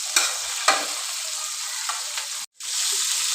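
Rice frying in oil in a pot and being stirred to brown it for a chana pulao, giving a steady close sizzle with a few scraping strokes of the spoon and a brief cut near the end.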